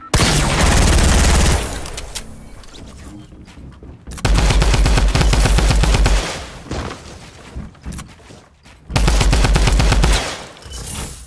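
Gunfire in the video game Fortnite comes in three loud, sustained bursts of rapid shots, each lasting one to two seconds, separated by quieter gaps of softer game sounds.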